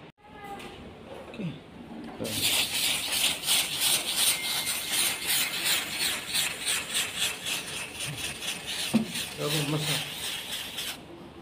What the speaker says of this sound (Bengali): আজকে আমরা মেশিন দেখাবো, ল্যামিনেটিং মেশিন কিভাবে কাজ করি